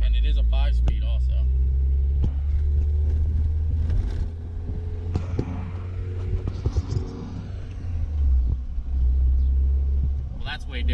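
A deep, steady engine rumble from inside a moving lifted Jeep XJ with a 5-speed manual, with occasional clicks and knocks and a voice talking over it.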